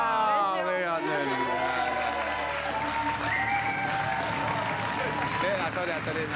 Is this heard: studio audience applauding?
yes